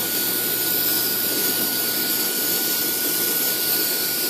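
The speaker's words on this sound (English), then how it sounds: "I'm going to use some electronic cleaner on the variable connector" Electronic cleaner sprays from a can onto a connector during a 3.4 liter power steering pump replacement on a Pontiac Grand Am or Olds Alero, giving a continuous close, loud hiss with no pauses.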